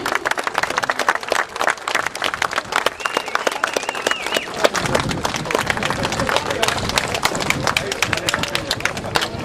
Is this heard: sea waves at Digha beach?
no